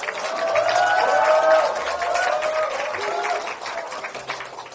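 Crowd at a Democratic Party regional event in Korea applauds and cheers as participants are introduced, a steady wash of clapping with a few raised voices, loud and sustained before easing slightly toward the end.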